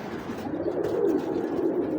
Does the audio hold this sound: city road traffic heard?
no